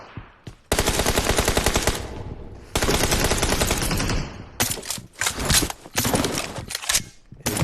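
Bursts of automatic gunfire in a team-based shooter video game, loud sustained rattling volleys broken by short pauses, with no talk over the firing.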